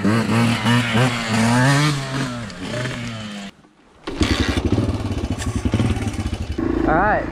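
Suzuki motorcycle revving hard during wheelie practice, engine rising and falling with a brief drop-out midway before more rapid throttle pulses; voices are heard over it.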